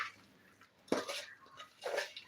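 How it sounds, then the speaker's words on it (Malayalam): Melted jaggery being stirred into flattened rice in a pan, two or three soft scraping strokes of a spoon against the pan, quiet and close, with no talking. "അത് നന്നായിട്ട് ഇളക്കി കൊടുക്കുകയാണ് കണ്ടോ"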